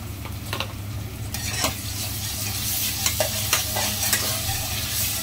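Ginger and garlic paste is stirred in hot oil, giving a close, busy sizzle with repeated scraping and clacking strokes from the spoon.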